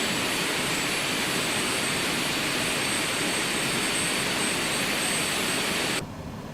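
Steady jet engine roar from an Epic Aircraft plane in the X-Plane 12 flight simulator, a continuous broadband rush with a high whine that drops off sharply near the end.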